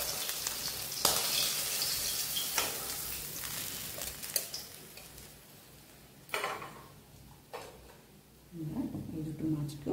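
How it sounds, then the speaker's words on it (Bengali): Katla fish pieces frying in mustard oil in a pan, a steady broadband sizzle with sharp bursts as pieces are added or turned, plus a couple of louder clatters near the end. "এবার মাছটা থেকে তুলে বাকি মাছ দুটো আমি এইভাবে ভেজে নেব।"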